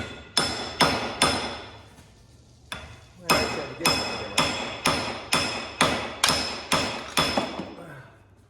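A hammer taps a stuck metal part in sharp, evenly spaced strikes, about a dozen blows with a short pause early on, loud and close.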